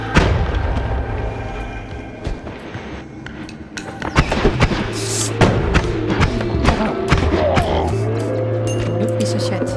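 Explosions in the video game Noita, a run of heavy thuds and booming bursts layered over a steady low hum, with clattering debris between blasts and a voice talking over them.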